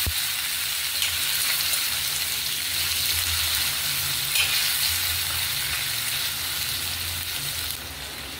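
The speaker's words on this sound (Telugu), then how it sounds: "ఇప్పుడు గ్యాస్ మీడియం ఫ్లేమ్లో పెట్టుకొని ఈ ముక్కలు కొంచెం ఈ ఆయిల్లో మగ్గాలి." Boiled mutton pieces frying in oil over a medium gas flame, a steady sizzle with occasional stirring, close and continuous without talk.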